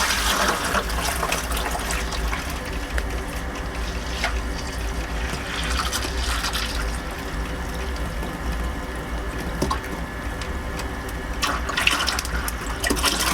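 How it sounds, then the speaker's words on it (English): Liquid pouring steadily into a wine fermenter during home winemaking, a continuous close splashing gush that runs without break for the whole stretch. "Pour it in."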